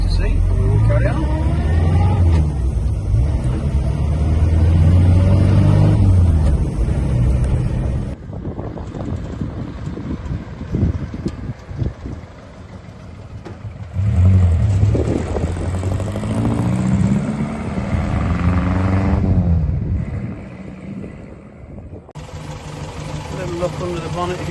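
A small 1958 Morris Minor 1000 saloon driving at about 35-40 mph with steady engine drone and heavy wind buffeting, the road noise rising and falling, with a brief quieter stretch midway.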